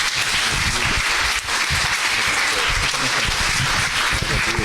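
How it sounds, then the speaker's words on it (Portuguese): A church congregation applauds during a worship service, with steady, dense clapping that stays loud and continuous throughout and briefly dips about a third of the way in. "Aplauda ao Senhor."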